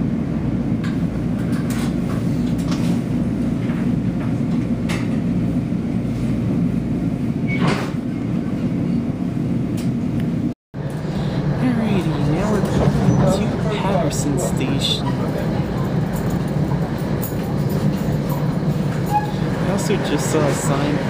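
A New Jersey Transit train moving through Hawthorne station, a continuous rumbling roll with clattering wheels and rising noise after a brief dropout, heard beneath ongoing talk.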